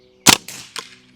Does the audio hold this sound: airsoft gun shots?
yes